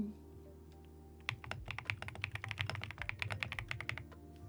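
Typing on a thocky marshmallow mechanical keyboard, with a rapid, steady run of close, crisp keystrokes that starts after a quiet second and continues to the end.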